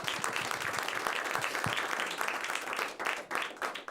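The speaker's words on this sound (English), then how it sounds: "Give yourself a round of applause." A comedy show audience gives itself a round of applause, busy clapping heard throughout, fairly distant and a little uneven, thinning and fluttering toward the end.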